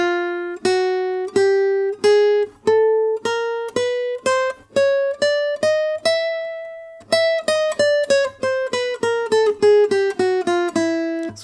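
A guitar plays the spider walk, a steady chromatic finger exercise, single notes picked one after another, climbing up and then descending in an even rhythm.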